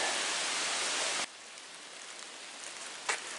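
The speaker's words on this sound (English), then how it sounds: "it's starting to rain a little more now, but it looks like maybe it's just a passing shower" Light rain falls outdoors as a steady broadband hiss, loud for the first second and then softer and even, with one brief louder spatter near the end.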